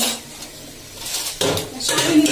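Masala for biryani fries in a pot, with a spoon clattering and scraping against the metal in bursts, the stirring louder and busier in the second half, while a voice talks faintly nearby.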